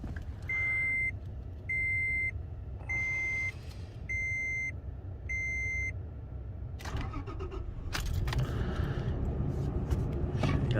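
A 2009 Toyota Tacoma TRD Crew Cab chimes with repeated in-cab warning beeps, then its engine cranks and catches near the end, fairly faint and close.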